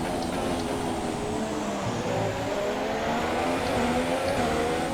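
Formula 1 cars racing at the Australian Grand Prix in F1 2017: a high, whining engine drone holds steady and loud throughout, with rising pitch sweeps as rival cars close in and pass.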